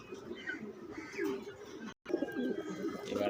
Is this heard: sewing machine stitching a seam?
no